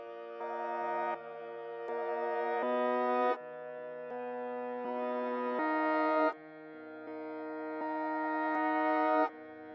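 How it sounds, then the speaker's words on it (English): Reversed, pitched-up piano chords in FL Studio, each chord swelling in volume and cutting off abruptly, repeating in a slow steady pattern at moderate level with no one talking. "So now our piano sounds like this."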